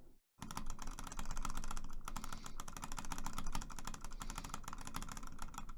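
Rapid, dense clicking hammers away at a steady fast pace during a clicks-per-second speed test, with a brief pause about a third of the way in before resuming just as fast.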